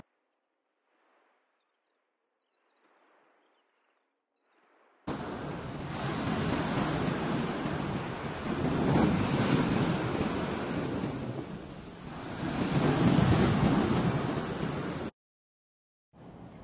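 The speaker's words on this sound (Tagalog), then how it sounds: "Kung naririnig nyo guys yung alon, ang sarap sa pakiramdam." After a quiet start, ocean waves rush in loudly with wind buffeting, swelling twice in rolling surges before cutting off.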